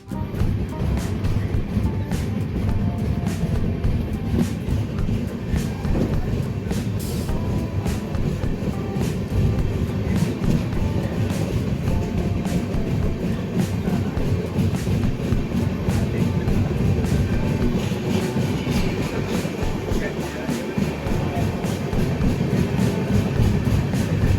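Steady rumbling of the Tamil Nadu Express passenger train in motion, heard from inside a coach, with a continuous low roar and faint rhythmic clatter throughout.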